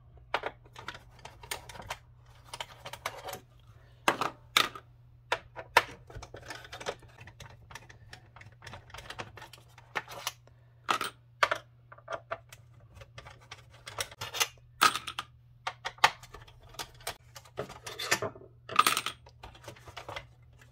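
Small screws being taken out of an Xbox One console during a Blu-ray drive replacement: scattered light clicks, ticks and metallic clinks at close range, irregular and sparse over a quiet background hum.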